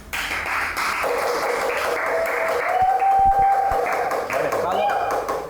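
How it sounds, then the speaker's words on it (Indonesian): Applause from a small group at an art talk show with a Japan-exhibiting artist, steady clapping for several seconds under light background voices. "Tepuk tangan dulu guys."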